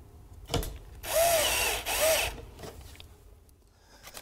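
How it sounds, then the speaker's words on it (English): A power screwdriver drives screws to fix a vinyl siding panel, two short whirring bursts close by, preceded by a sharp knock and followed by quieter handling noises. "Then fix the panel using screws."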